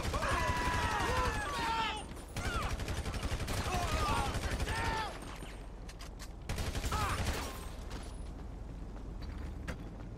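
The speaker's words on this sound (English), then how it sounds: "They start opening fire before I even fucking pulled out my weapon!" A GTA Online dockside shootout, with rapid bursts of gunfire in repeated volleys separated by short lulls, heard alongside chattering game voices and overlapping sounds.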